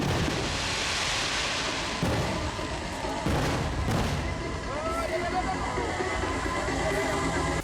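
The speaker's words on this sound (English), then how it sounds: "a big firework display signalled the end of the show" A big fireworks display ends an outdoor Thai car show, with deep booms and crackling bursts repeating over a steady wash of crowd noise and some talking.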